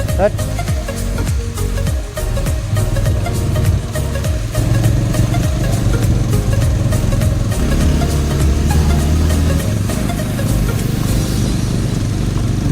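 A motorcycle rides steadily along a hilly mountain road between Dang and Pyuthan, its engine a loud, continuous drone with wind noise, while a rider talks over it throughout.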